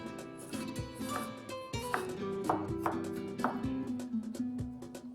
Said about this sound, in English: To begin with, I'm going to use red apples. I'm going to cut these in small dices.